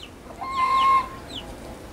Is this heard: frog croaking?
no